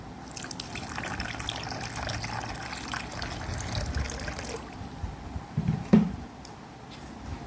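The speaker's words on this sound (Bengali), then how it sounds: "এবার আমি দিয়ে দেবো পিওর জল।" Pure water is poured onto sugar for a lemon ice lolly, a continuous light trickle and splash running for several seconds, then thinning out and ending with a brief louder knock near the end.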